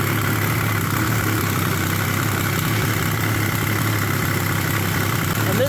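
Yamaha triple engine idling in a Polaris RZR XP at first start, a steady, even rumble held at constant level throughout with no revving.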